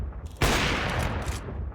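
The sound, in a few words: gunfire in the video game Crossfire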